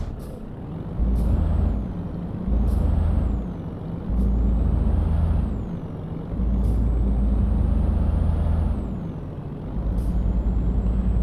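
Air brakes on a truck in Euro Truck Simulator 2: a loud idling diesel rumble punctuated by about five sharp pneumatic hisses and releases at regular intervals, with a rising whine after each burst.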